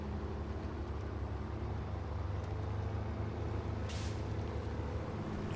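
An army truck on giant monster truck tires drives through mud in SnowRunner, its engine giving a steady loud low drone with a brief hiss partway through and no talk.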